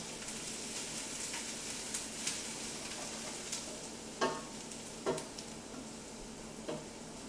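Onions sizzle and fry in a soup pot, a steady hiss with a few sharp ticks and clinks of stirring scattered through, close and alone without talk.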